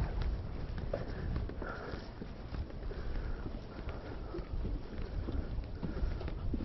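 Wind blows outdoors at Ranworth Broad, a steady, blustery roar buffeting close by with a heavy low rumble that runs through the whole stretch, with no voices.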